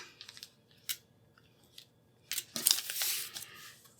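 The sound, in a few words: trimming foundation paper with scissors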